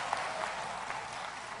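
An audience applauds in a steady, even wash of clapping that is fairly faint and distant, with no voices standing out over it.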